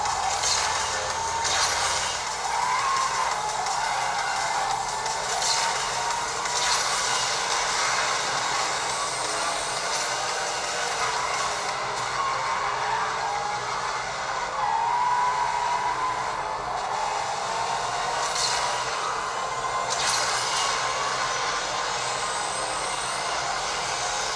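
A steady roaring car engine and whooshing tire noise from the Asphalt 8 racing game play continuously while the car drifts, with a few brief swells and bright effect sounds scattered throughout.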